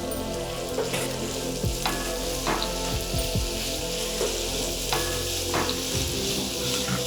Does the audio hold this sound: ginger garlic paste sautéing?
yes